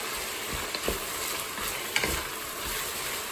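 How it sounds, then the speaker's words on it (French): Green, yellow and red bell peppers cooking in a Cookeo multicooker for noodles with vegetables and shrimp, a steady close sizzle with occasional stirring scrapes, no talk. "on va laisser les légumes cuire tranquillement"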